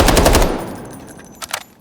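A non-silenced assault rifle fires in a video game: a quick, loud burst of rapid shots that ends abruptly, followed by a fading echo and a couple of faint mechanical clicks.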